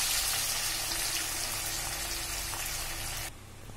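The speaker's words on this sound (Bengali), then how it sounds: "জাস্ট এইভাবেই আমি চিকেনগুলোকে ভেজে তুলে নেব।" Chicken pieces frying in hot oil give a dense, steady, close sizzle that stops abruptly near the end, leaving a quieter background.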